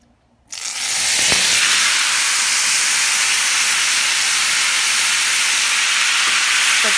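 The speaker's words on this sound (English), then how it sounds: "So that's what you want to hear. And I'm going to let this sear for 10 minutes per side." Tri-tip steak hits a hot pan after brief quiet, bursting into a loud, steady sizzling hiss that holds without a break to the end.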